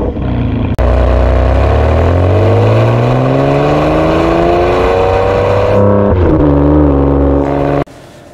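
A 2008 Ferrari 599 GTB Fiorano revs hard while driving, its engine note climbing steadily through a long loud pull, dropping briefly, then rising again before cutting off near the end; no voices.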